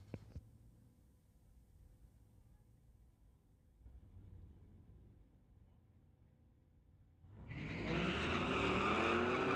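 Street-legal drag race cars at a drag strip launch and roar down the track, the loud engine noise bursting in near the end after a long stretch of quiet low rumble.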